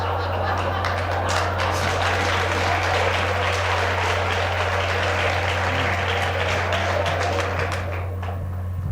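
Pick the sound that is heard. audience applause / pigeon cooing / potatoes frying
audience applause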